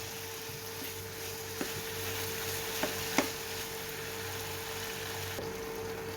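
Prawns simmer in a pan of tomato sauce for shakshuka, giving a soft, steady sizzle and bubbling with a low hum underneath and a few faint clicks of a utensil.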